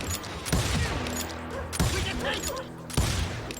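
Gunfire in the Western shooter Call of Juarez, three loud close bursts of shots roughly a second apart, each followed by ringing reverberation and a dense layer of game noise.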